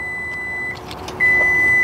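Power front trunk on a 2022 Ford F-150 Lightning electric pickup opening, a steady electric motor whine with a brief dip partway through, then a louder, brighter hum as the lid keeps rising, close by with no talking.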